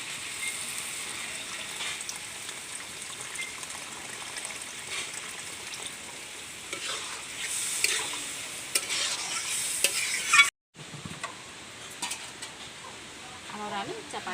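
Chicken curry with tomato, cooked with potato and little oil, is stirred in a pan, giving continuous sizzling with wet scraping and spoon movements up close, with a brief break near the end.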